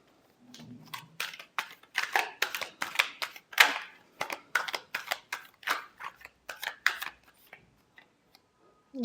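Tarot cards are shuffled by hand in a quick, close, rhythmic series of crisp riffling bursts lasting several seconds before stopping.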